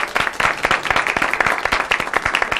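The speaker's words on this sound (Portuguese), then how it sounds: "Uma salva de palmas para vocês." Studio audience applauding at a live Brazilian TV programme, a steady burst of dense clapping from a crowd that fills the whole moment, close and lively with no talk over it.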